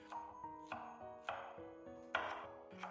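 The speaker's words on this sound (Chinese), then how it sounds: "半个洋葱先给它切成条" A knife chops half an onion into strips on a board, with about eight crisp, close cuts falling at a fairly even pace and no talking.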